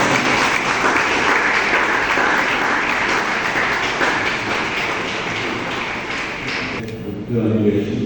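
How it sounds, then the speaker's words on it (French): An audience claps at a graduation ceremony of the International Bible Study Centre (CBI), a long, thick, even wash of applause that cuts off abruptly near the end, leaving a brief quieter tail with faint voices. "Très chaud applaudissement pour le gouvernement de Chypre"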